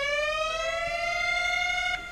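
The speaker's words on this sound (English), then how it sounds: "The Microkorg XL, there's a siren feature" A Microkorg XL synthesizer siren effect plays a loud, steady electronic tone with rich harmonics that slowly rises in pitch, then cuts off abruptly near the end.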